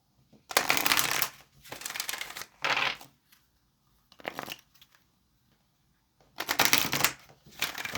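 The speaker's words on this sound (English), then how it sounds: "All right, let's get this last shuffle." A deck of tarot cards being shuffled by hand, close up, in several rapid riffling bursts separated by short pauses.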